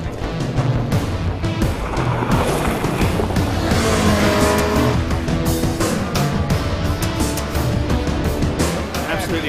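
A car is driven hard around a track with handbrake turns, its engine roaring loud and close alongside tire noise, while a person talks over it.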